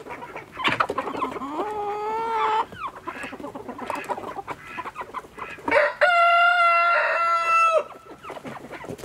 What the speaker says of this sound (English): Let's see if the new hens come out.